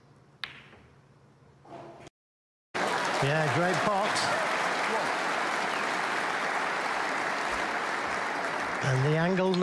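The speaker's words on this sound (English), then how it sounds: "he got a good cheer for that, didn't he?" A snooker crowd at the Northern Ireland Open final applauds a shot with sustained, dense clapping that fills the room, with a commentator's voice speaking over it after a brief silence.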